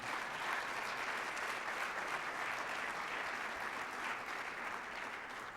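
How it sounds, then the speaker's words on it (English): A large audience at a city's State of the City address breaks into sustained, dense applause, a steady wash of many hands clapping at even volume from start to finish with no voices over it. "That deserves a round of applause."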